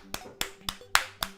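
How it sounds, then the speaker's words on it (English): Five sharp finger-only claps, with no palm contact, sound close and distinct in an uneven rhythm. The fourth is the loudest. "you can clap with just your fingers"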